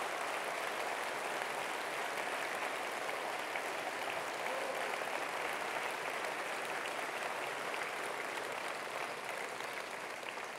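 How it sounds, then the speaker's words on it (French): A crowd at a political rally applauds continuously, a dense, even wash of clapping heard from a distance with no breaks, steady for over ten seconds. "vous pouvez l'applaudir."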